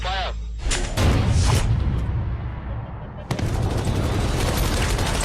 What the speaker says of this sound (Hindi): भारतीय स्ट्राइक टीम ने गोलियां बरसानी शुरू कर दी